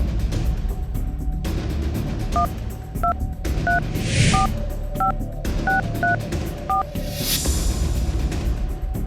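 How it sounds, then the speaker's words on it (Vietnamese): Telephone keypad tones ring out one by one as a phone number is dialed on a game show, about ten evenly spaced beeps under low background music and room sound. "bấm ngay số điện thoại để gọi"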